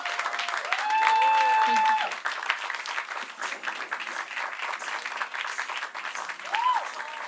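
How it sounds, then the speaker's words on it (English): An audience at an annual dance academy showcase gives a standing ovation, with steady crowd clapping running throughout while a voice speaks over it and brief music tones surface. "Please give them another round of applause if you can"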